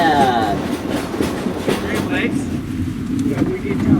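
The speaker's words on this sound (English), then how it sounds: "we got a train here" A train rumbles along with rhythmic clickety-clack at a Silver Dollar City theme park street festival, steady and fairly close, with a crowd murmuring around it.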